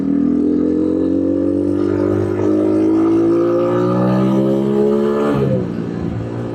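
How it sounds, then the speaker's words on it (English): A cheap street-legal 250cc dirt bike pulls away in first gear, its close, loud engine note climbing steadily in pitch for about five seconds before easing off as the throttle drops. "Just give it a little throttle, and then release the clutch slowly-ish"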